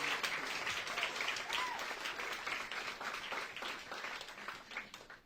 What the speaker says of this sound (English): I'd like to give a huge round of applause to the exemplary,